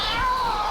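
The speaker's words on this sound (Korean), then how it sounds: "이게 지금 요 나무 위에 어치가 울고 있는 거야." A Eurasian jay up in a tree on Achasan mountain gives a cat-like mewing call, one drawn-out, nasal cry heard fairly close in the open air.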